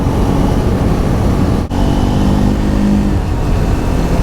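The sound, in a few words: Triumph Speed 400 motorcycle being ridden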